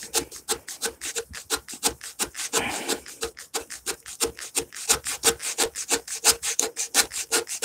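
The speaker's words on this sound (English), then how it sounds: "I'm slicing it forward at an angle as I sand." Quick repeated strokes of sandpaper rub across a wooden cabinet door by hand, a close, even rasping rhythm that briefly blurs into a smoother swish midway before resuming its brisk back-and-forth pattern.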